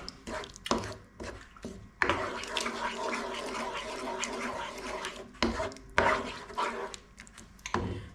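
Utensil scraping and clinking in a pan of Kerala fish curry made with panga (basa) steaks, in short irregular bursts of stirring, fairly close and moderately loud.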